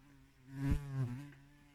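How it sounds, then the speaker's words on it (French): An Asian hornet buzzes close by, a low droning hum that swells as it passes near, then fades slightly, alone without talk. "C'est un frelon asiatique."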